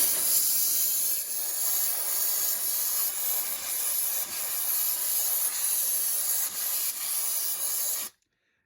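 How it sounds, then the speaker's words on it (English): Aerosol spray can of cleaner blasting into a yard sale IBM computer, a loud, steady hiss lasting about eight seconds before cutting off abruptly. "Gimme that spray can."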